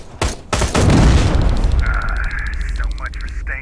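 A gunshot destroys a laser device in Terminator Resistance. A heavy boom hits first, then a long roar and crackle of debris, with faint electronic tones trailing after.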